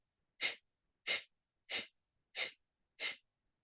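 Kapalbhati breathing done in Gyan Mudra: five sharp, forceful nasal exhalations at a steady, even rhythm about two-thirds of a second apart, close and clear, with silence between them.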